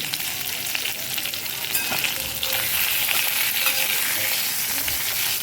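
Stuffed masala green chilies sautéing in a hot pan give a loud, steady, close sizzle, with a few light stirring clicks and no talk.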